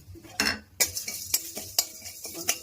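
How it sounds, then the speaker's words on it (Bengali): Coriander, cumin, black pepper and bay leaf roast in a dry pan as a spatula scrapes and taps the metal in a series of sharp, close clinks and stirring rasps with a faint background sizzle. "শুকনো খোলায় আমি এই মশলাগুলো ভেজে নিচ্ছি।"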